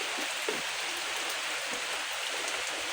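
Steady rain pours down without pause, a dense even hiss of drops hitting surfaces close by, with no voices.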